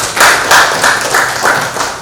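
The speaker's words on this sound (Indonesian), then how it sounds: "Beri tepuk tangan." A group of students clapping together in a classroom, about four loud, close bursts of rhythmic clapping in quick succession with no talking.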